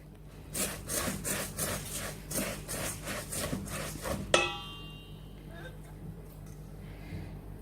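Puffed rice is stirred into hot jaggery syrup in quick, rhythmic scraping strokes, close and steady, ending with a sharp metallic clang that rings briefly before things go quiet.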